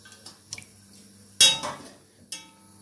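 A spoon clinks against a pan while poultry jus is ladled in, with a few light taps followed by one louder splash-and-clatter and a final clink, close and clear.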